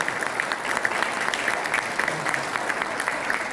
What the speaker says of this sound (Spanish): Le regalamos un fuerte aplauso.